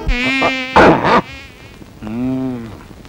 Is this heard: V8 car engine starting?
no